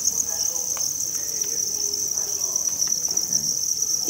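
Farmed crickets chirp in a continuous high steady trill that fills the whole stretch, with faint scattered rustles beneath and no voices.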